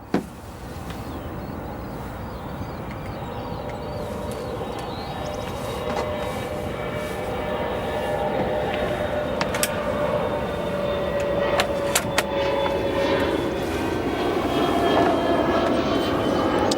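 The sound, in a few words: Royal Jordanian Boeing 787-8 taxiing onto the runway at O'Hare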